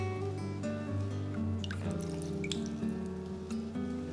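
Fish sauce is poured over 1.6 kg of pork in a bowl, marinating for Vietnamese braised pork, thit kho tau; soft trickles and a few light drips sit under steady background music.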